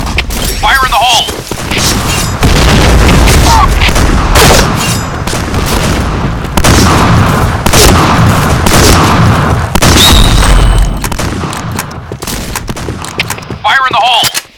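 Grenade explosions in the shooter game PointBlank, heavy booms mixed with gunfire that roll through nearly the whole stretch at high volume, with a voice callout heard over the blasts.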